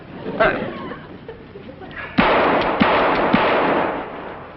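Gunshots at a fairground shooting gallery in an old radio comedy, several sharp loud cracks in succession beneath a dense crowd-like wash, with speech around them.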